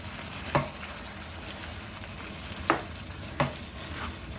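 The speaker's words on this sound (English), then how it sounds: "All right, let me stir this in real good." Enchilada filling sizzling in a frying pan, a steady soft frying hiss broken by three sharp scraping stir strokes of a spoon against the pan.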